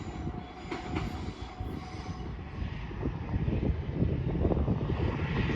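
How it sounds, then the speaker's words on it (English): Freight train bound for Southampton passing on the line, a continuous heavy rumble with rhythmic wheel clatter that grows slightly louder toward the end, heard outdoors with no talking. "we have a freight train going to Southampton"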